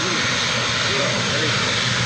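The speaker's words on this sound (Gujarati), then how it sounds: "देखो जो प्लेन जा रहा है" An airplane flies past, its steady roaring engine drone filling the whole stretch while people talk nearby on a village road.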